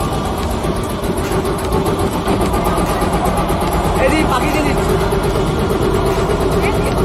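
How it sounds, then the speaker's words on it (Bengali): Loud, steady engine drone of a motorboat on the Ganges near Manikarnika, running continuously throughout with a constant low rumble and a few faint voices underneath. "খুবই জোরে আওয়াজ চলছে, ভটভটির আওয়াজ, জোরে আওয়াজ হচ্ছে"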